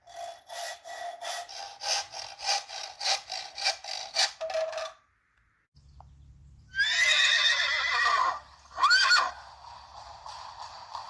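A hand saw cuts through wood in a historic village workshop with a wood stove, giving a steady run of rhythmic back-and-forth strokes, close and clear, before it stops and a horse whinnies loudly nearby.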